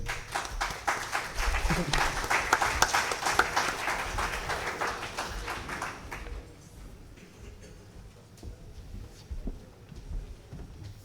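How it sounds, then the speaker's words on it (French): Audience applause and clapping at the closing session of an assembly hall gathering, a dense sustained burst that stays loud for about six seconds, then breaks off, leaving a quieter room with scattered sounds. "Applaudissez s'il vous plaît"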